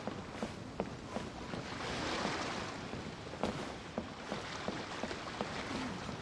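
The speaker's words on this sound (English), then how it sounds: "The waves are as calm as always." Ocean waves heard while sailing in the video game Genshin Impact, a soft washing surge that rises and falls under repeated light splashes and wooden creaks, fairly quiet and without speech.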